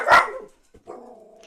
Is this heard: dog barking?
yes